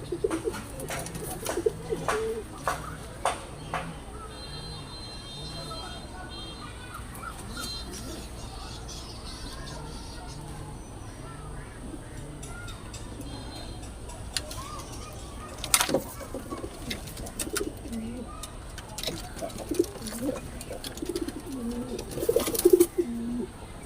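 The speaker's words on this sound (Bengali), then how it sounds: "প্রতিটা ঘরের মধ্যে কবুতর আছে কিছু কবুতর ডিম দিয়েছে" Pigeons coo repeatedly in a coop housing pigeons of many kinds, some nesting on eggs, with soft overlapping calls throughout, occasional knocks and handling noises near the end, and faint voices in the background.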